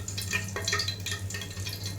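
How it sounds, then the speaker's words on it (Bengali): Whole cinnamon, cardamom pods and bay leaves frying in oil for khichuri, a soft steady sizzle with light stirring scrapes in the pan, close and continuous. "তারপর কিছুক্ষণ ভেজে নিব।"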